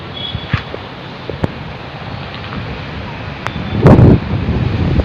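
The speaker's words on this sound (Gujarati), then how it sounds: "બહુ જ પવન ઉડે છે ને એના લીધે છાંટે." Strong wind in heavy rain in a Gujarat village, roaring and buffeting the microphone throughout, with a louder gust toward the end.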